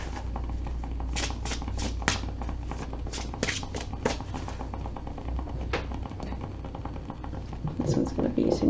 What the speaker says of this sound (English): like to shuffle each deck 4 times